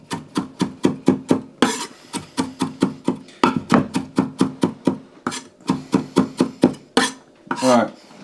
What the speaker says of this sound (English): I know people tell you not to scrape your knife along the board like that because it's going to blunt it